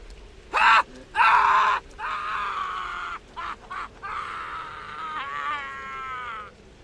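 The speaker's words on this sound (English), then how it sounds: "he'll still let out this scream." A soldier in the video game Pathologic screams in two loud, harsh bursts, followed by quieter drawn-out, wavering cries over steady background ambience.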